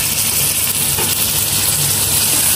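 Spices for chicken shaljam sizzle loudly and continuously as they roast in a hot pan, a dense hiss with no pauses.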